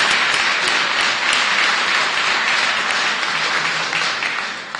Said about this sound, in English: So you owe her a round of applause.